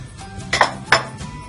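Flour stirred into melted oil in a pan for roasting, heard as two distinct scraping clinks of a utensil against the pan over a low background.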